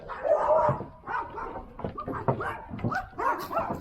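Several dogs bark, yip and whimper in an excited, overlapping chorus close by, with a voice breaking in over the commotion.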